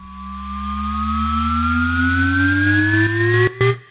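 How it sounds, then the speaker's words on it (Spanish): Synth riser effect from a Massive Bounce library, made for trap production, glides upward as a pure siren-like tone over a deep droning bass, with stuttering pulses and a sudden break near the end, loud with no voices. "Y luego este otro riser que tenemos aquí."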